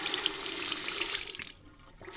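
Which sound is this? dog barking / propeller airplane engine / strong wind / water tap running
water tap running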